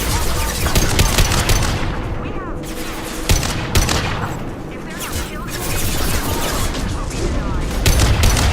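Krogan gunfire in the video game Mass Effect 2 rattles as dense, continuous volleys and booms, with voices shouting amid the loud combat.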